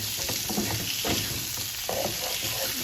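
Couscous fries in oil in a pan on a stove over medium-high heat while it is stirred to coat it. A continuous loud sizzle runs close up throughout, with scraping stir sounds at intervals.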